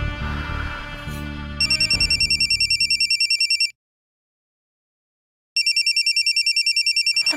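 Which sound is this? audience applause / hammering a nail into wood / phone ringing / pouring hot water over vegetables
phone ringing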